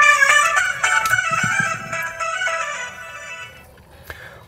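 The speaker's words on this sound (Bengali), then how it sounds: "ফোনটি ব্র্যান্ডিং লোগো এসে কিন্তু ওপেন হলো" A Moonstar M555 keypad phone plays its startup tone, a bright, clear melodic jingle of short notes that fades out after about four seconds.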